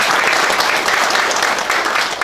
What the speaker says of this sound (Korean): 환영의 박수 부탁을 드리겠습니다.